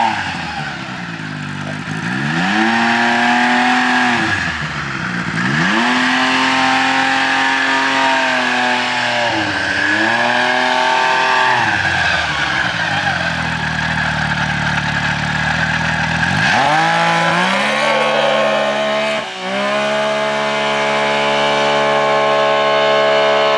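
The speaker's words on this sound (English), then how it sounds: "I can tell it's revving out better" A mini truck engine revs up and down repeatedly, its pitch sweeping high and falling back in loud, close bursts that run with no limiter cutting in, with a final sharp rise near the end and no talking.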